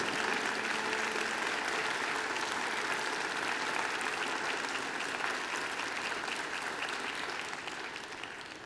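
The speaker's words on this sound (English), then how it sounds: "I invite you to give them a mighty round of applause" Steady, dense applause from graduates clapping for their families and friends at a Macquarie University graduation ceremony, even and continuous before tapering slightly at the close.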